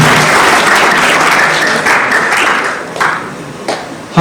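An audience applauds children at a Constitution Day ceremony, a dense, steady wash of clapping that carries loudly through the whole stretch with a few sharper claps near the end.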